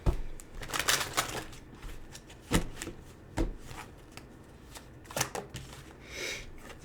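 A deck of angel cards is shuffled with repeated crisp riffles and flicks in irregular bursts, fairly quiet and close, with no one speaking.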